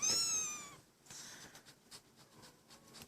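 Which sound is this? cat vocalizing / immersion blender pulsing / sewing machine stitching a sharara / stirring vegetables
cat vocalizing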